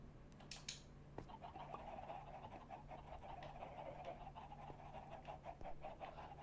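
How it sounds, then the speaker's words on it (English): Minecraft chickens cluck in soft, irregular honking bursts over a busy game background, faint and scattered across several seconds. "I can hear chickens."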